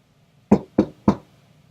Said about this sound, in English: he heard gentle knocking at the door